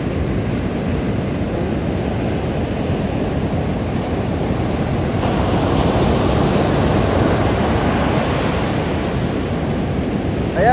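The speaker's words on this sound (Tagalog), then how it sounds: "dahil napakalakas talaga ng alon, ang laki ng alon" Strong rainy-season surf at Morong Bataan beach roars loudly and continuously, a steady close wash of breaking waves with wind noise over it.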